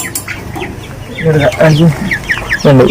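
Several chickens clucking and squawking close by in a hi-tech coop with nipple drinkers, busy overlapping calls that grow louder toward the end, with faint talk underneath.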